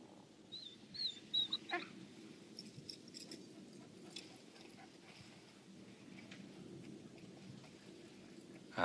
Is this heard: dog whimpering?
yes